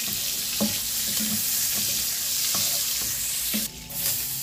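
Butter melts and sizzles in a pan as the base for softening onion and garlic, a bright steady hiss broken by several soft knocks and scrapes of a utensil, with no talk.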